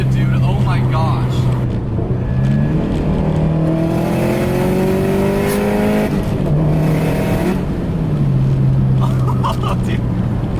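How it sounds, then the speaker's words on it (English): A Subaru STI with a boxer engine and external wastegate idles and revs close by, a deep lumpy rumble rising and falling through several throttle blips, while people talk over it. "I cannot get enough of that Subaru rumble, dude."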